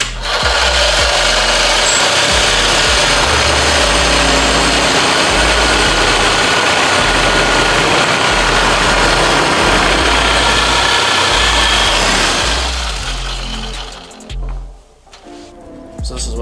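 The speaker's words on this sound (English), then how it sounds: "we're gonna use a Sawzall and run it across here, smooth this out as best we can" A Sawzall reciprocating saw cuts the ribs off a Miata rear differential housing, a loud, steady buzzing rasp that runs for about twelve seconds before cutting out, followed by quieter clatter.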